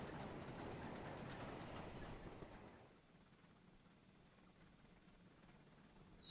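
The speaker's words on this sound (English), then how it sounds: "Sidelined by a goods train?" A goods train rushing past in a train video game, a loud rolling rumble for about three seconds that fades quickly to a quiet hum.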